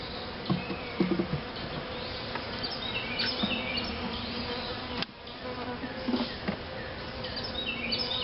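Honeybees and drones buzz densely around an open swarm hive being re-queened, a steady close drone of many wings with individual insects zipping past the mic and a faint bird chirp.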